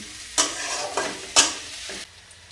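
Noodles frying in a little oil, a steady close sizzle broken by three sharp scraping stirs of the pan, with no voices.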